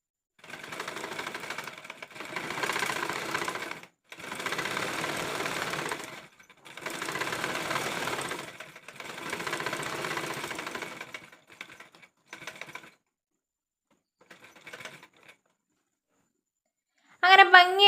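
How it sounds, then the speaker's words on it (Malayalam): A sewing machine stitches pieces of churidar fabric together in several sustained loud runs separated by short pauses, with a few brief bursts near the end. "അങ്ങനെ ഭംഗിയായിട്ട് നമ്മളിത് ഇതുപോലെ സ്റ്റിച്ച് ചെയ്തെടുത്തിട്ടുണ്ട്."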